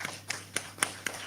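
An audience clapping for panelists at a conference session, a handful of sharp claps spaced unevenly over a moment, fairly faint and sparse rather than a full ovation.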